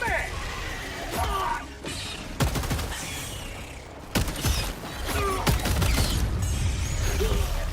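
Gunfire and a magazine reload during a Helldivers 2 fight, with bursts of shots, mechanical clicks and clacks, and someone talking over the loud, busy battle noise.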